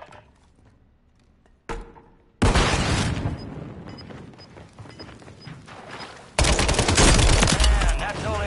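Dense gunfire fills a Warzone gulag fight, with loud overlapping bursts and rapid shots that come close and loud, mixed with other game effects and growing heavier toward the end.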